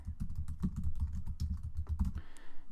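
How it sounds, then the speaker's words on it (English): Steady rapid typing on a computer keyboard, dense close key clicks in quick bursts with a brief pause near the end, no voices. "underneath that I'm going to type in instructional design"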